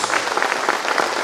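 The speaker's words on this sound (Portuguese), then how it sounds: "Uma salva de palmas para Jesus." Church congregation clapping together in Guarulhos, a dense steady patter of many hands filling the room, close and fairly loud with no talk over it.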